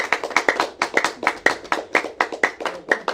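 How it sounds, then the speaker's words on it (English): Rhythmic hand clapping honours the contestants at a televised school quiz competition. The steady, fairly close claps come from a few people rather than a large crowd, and there is no talk. "A round of applause for all the contestants once more."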